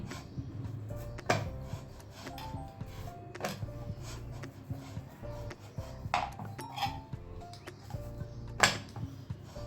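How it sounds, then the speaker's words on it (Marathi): Maida dough for shankarpali is rolled into a thin chapati on a board, giving soft rubbing and rolling sounds with scattered wooden knocks and light clinks over a low steady background. "आता ह्या गोळ्याची आपल्याला पातळ चपाती लाटून घ्यायची आहे"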